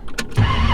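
A 1932 Ford Victoria with a 350 V8 and Holley Sniper electronic fuel injection cranks briefly, then catches and settles into a loud, steady idle close by.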